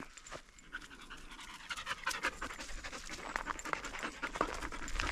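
A physically tough working dog pants rapidly and steadily close by, its quick rhythmic breaths continuing throughout and building slightly in loudness.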